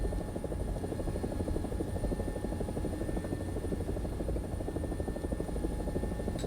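AB 205 A-1 helicopter, an Italian-built UH-1H, flying in a video game: a constant, even rotor drone with a steady engine hum throughout, close and unbroken, with no talk.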